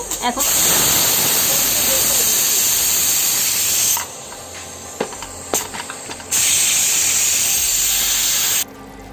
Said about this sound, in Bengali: আমি প্রেসার কুকারে 3টা সিটি দিয়ে নিছি